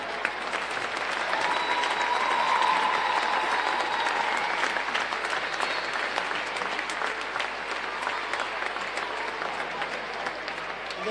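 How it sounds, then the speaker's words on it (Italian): Crowd at a roller hockey arena for a Serie A1 match applauding, a sustained, even wash of clapping from many hands in a large reverberant hall, lasting throughout at steady loudness. "Facciamo un applauso"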